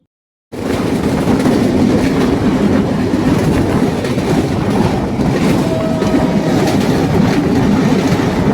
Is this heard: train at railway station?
yes